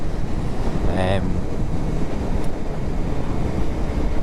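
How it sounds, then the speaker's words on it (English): Wind roars steadily against the microphone while cycling outdoors, a continuous broadband rush with a faint brief tonal squeak early on and no speech. "the wind is not great"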